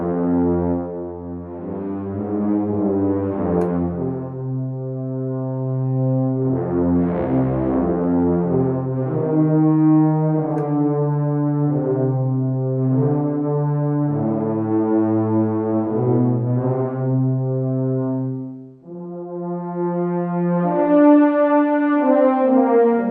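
Warm, mellow orchestral brass sustains from the Metropolis Ark 5 library, low held chords shifting slowly in a legato line before rising into a brighter chord near the end, full and steady with no voices.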